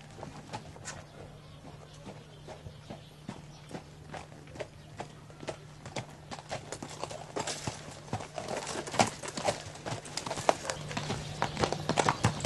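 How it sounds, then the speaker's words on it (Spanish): Horse hooves clip-clop along a rural path, the steady hoofbeats growing louder and closer over several seconds, with a low hum beneath and faint birds in the background. "por ahí se oye que ya viene el caballo"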